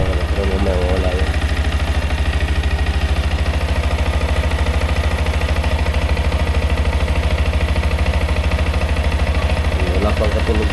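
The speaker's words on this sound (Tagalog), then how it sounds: "Smooth pa ang kanyang makina mga kabugoy." A Yamaha engine idles smoothly, a steady low rumble and vibration running close and continuous throughout, with a voice speaking over it at the start and again near the end.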